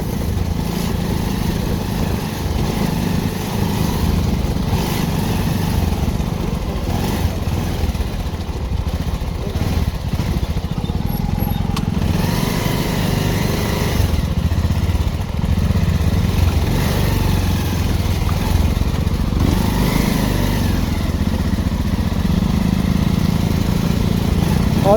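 A motorcycle engine chugs continuously and close by while the rider struggles to shift gears, its uneven mid-pitched drone rough and sputtering.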